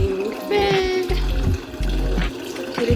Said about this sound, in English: Our water is being filled.